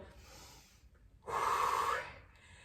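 An instructor breathes close to the microphone during a resistance-band workout, with a quiet inhale followed by a strong, audible exhale, and no talking.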